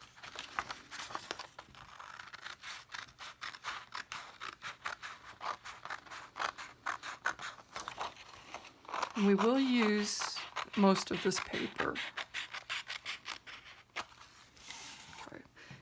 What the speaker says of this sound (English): I'm going to use my scissors now, and I'm going to cut on that crease line.